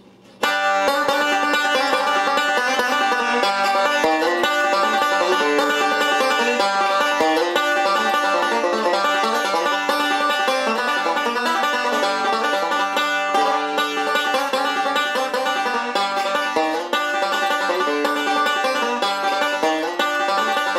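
Someone plays his own version of a bluegrass tune as a steady, bright stream of fast picked notes, loud and close throughout with no talking.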